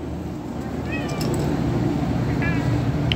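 Cats meow at feeding time, giving two short, close meows about a second and a half apart over steady background noise.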